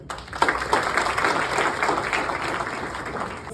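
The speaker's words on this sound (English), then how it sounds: "A big round of applause for him." An audience at an inter-college science competition held with ISRO breaks into sustained applause, a dense, broad wash of clapping that swells quickly and holds steady, with faint voices underneath.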